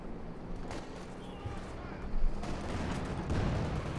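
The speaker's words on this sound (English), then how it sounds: "Katyusha barrage again" A Katyusha rocket barrage in the Company of Heroes 2 video game rumbles through several dull, distant thumps and whooshes over a busy battlefield din, with a voice talking over it.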